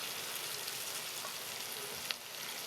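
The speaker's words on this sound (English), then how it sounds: "now I'm noticing you are also frying your carrots a bit" Carrots frying in a pan give a steady, even sizzle with light crackle throughout, close and continuous, with one brief soft clink near the end.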